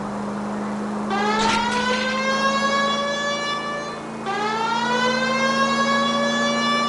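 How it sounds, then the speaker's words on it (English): A police car siren in the video game L.A. Noire wails in two rising sweeps over a steady low engine hum, loud and close, with no voices. "I think we need a siren."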